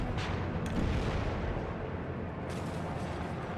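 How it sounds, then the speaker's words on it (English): T-62 tanks fire in a WARNO battle: dense, continuous rumbling cannon and artillery blasts with a couple of sharper reports, loud and layered with no voices. "you see T-62s putting down some fire"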